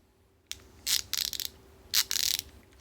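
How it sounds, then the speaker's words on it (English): Gearwrench 120XP half-inch drive ratchet from an 80700P socket set clicking in two quick bursts of fine, rapid ticks, close and crisp against a quiet background with no talk. "nice smooth ratchet."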